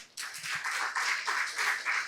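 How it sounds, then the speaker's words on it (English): A room full of people breaks into a round of applause at a life skills training session, dense clapping starting abruptly and holding steady, fairly close and alone. "Round of applause."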